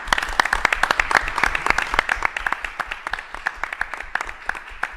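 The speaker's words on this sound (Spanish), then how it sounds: "hoy un aplauso hay que darlo." Small group clapping during a wine show filmed at a wine museum, distinct individual claps in an irregular rhythm, close and fairly loud, lasting about five seconds.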